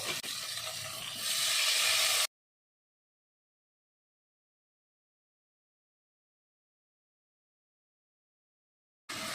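Two tablespoons of water hit sizzling ginger-garlic paste masala for a Katla fish curry while it is stirred. A loud, close hiss and scrape builds for about two seconds, then cuts to silence, with a short burst returning at the very end.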